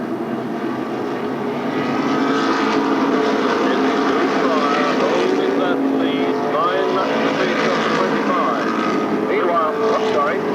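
Pro stock race cars racing at Stafford Speedway, a dense sustained engine roar from a pack of cars going by, loud and continuous, with an announcer talking over it.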